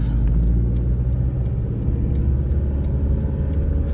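Interior drone of a Mitsubishi Delica L400 van driving, a loud, steady low engine and road rumble with no pauses.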